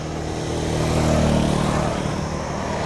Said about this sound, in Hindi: बाइक में तो बड़ी गंदी आवाज आ रही है यार